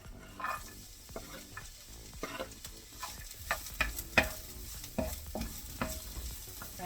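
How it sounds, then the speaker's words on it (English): Shallots and garlic sautéing in a saucepan, a quiet sizzle broken by irregular scraping stirs and clinks close by, with no talking. "in the same saucepan that we did the meatballs, we're going to add the shallots and the garlic"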